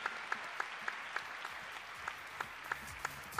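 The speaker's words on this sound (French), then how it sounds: "on applaudit les joueurs aussi" An audience at a live gaming show applauds the players, a steady wash of clapping at moderate distance with a few sharper claps standing out.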